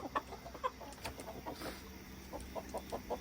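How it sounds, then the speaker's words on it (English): Several hens and a rooster of an olive egger flock cluck in short, scattered bursts inside a lit coop at night, fairly close and moderately loud, with no talking. "I'm gonna have to grab these chickens kind of quick"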